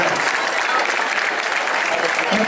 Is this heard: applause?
yes